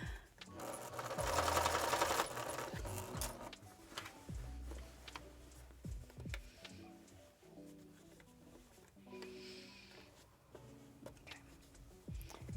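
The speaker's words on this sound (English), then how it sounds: "Again, sewing with my needle down" Sewing machine stitching through padded layers of a quilted goose coat with the needle left down, running in slow bursts with pauses as the fabric is turned around curves, moderately loud and close, with no talk.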